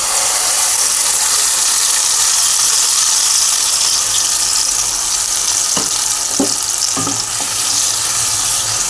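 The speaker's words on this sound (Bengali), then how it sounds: "তেলটা গরম হয়ে গেছে। এইবার আমি এই পেস্টটাকে এর মধ্যে দিয়ে দিচ্ছি।" Spice paste hitting hot white oil for a vegetarian cauliflower roast, a loud, steady, close sizzle and fry that holds throughout, with a few soft stirring knocks near the end and no talking.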